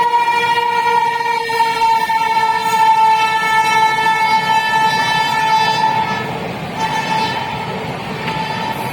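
Pooja SF Express pulling out of a junction on the Firozpur division, a long sustained horn sounding loud and near over a rumbling train, then fading slightly as wheel noise continues.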